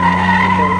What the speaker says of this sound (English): Now in the XJS heading up the hill